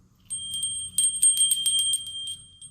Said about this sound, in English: Oh, it's got a nice little chime to it.